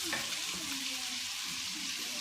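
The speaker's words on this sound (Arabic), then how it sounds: "هذاك اللحم مفروم مع شوية فلفل برلعبيب، نقلي شوية مع الثوم" Minced meat frying with garlic and chili pepper in a pan, a steady close hiss of sizzling oil with soft stirring underneath, unbroken across the short stretch.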